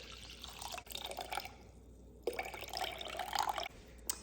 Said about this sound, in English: next I'm adding 350 grams of warm water